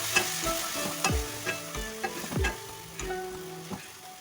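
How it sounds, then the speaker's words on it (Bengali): A spoon stirs tomato chutney with ginger, turmeric, cashews and raisins in a sizzling pan, giving irregular close scrapes and knocks over a low frying hiss. "দিয়ে আমি সব মেশাচ্ছি"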